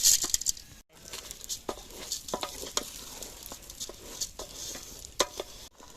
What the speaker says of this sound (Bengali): চালটা দিয়ে 5 থেকে 6 মিনিট হালকা আঁচে ভেজে নেব চালটা